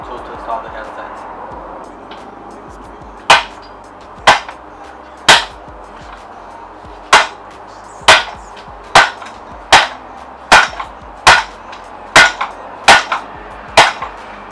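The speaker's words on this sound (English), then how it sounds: "I just installed it with the rubber hammer." Sharp, sturdy taps of a rubber hammer installing a headset on a fixed-gear bicycle, about a dozen strikes coming faster toward the end, over a low background hum.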